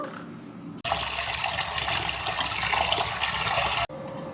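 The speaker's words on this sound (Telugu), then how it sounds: "ఇందులో కందిపప్పు శుభ్రంగా కడుక్కుందాము." Toor dal being rinsed in a steel pressure cooker vessel: a steady, loud rush of running water and churning liquid fills about three seconds, then cuts off abruptly, with no talk over it.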